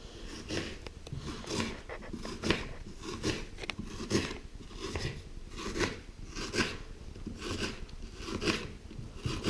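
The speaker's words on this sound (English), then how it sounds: "Chop the onions finely." A knife chops onions finely on a board for biryani, giving a quick, regular series of close, crisp strokes that repeat steadily without talk.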